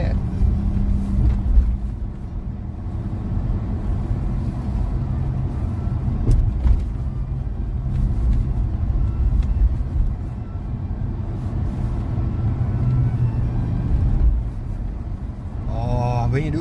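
A Mercedes W126 engine pulls steadily under acceleration, a continuous low rumble heard from inside the car, with road noise throughout and brief talk near the end.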